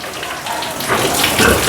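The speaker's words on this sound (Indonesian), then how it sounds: "Wah, ini kencingnya banyak amat ini induknya." A sow on a pig farm urinates heavily, a steady close splashing stream of liquid hitting the floor, rising toward the end.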